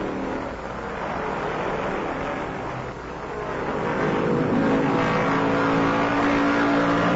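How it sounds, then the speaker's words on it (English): Stock cars race in the 1968 Southern 500, with a loud continuous roar of engines at speed that swells and dips slightly as cars pass, a dense mechanical drone without talking. "Cale's still the leader with 15 miles to race, but Pearson's gaining"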